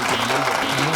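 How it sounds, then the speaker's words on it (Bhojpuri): Applause at a village panchayat gathering as a gift of sandals is presented, a short dense patter of clapping with voices mixed in throughout. "जोरदार ताली।"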